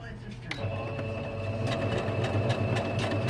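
A new sewing machine runs on its slow setting, giving a steady, close mechanical hum with a soft rhythmic ticking throughout.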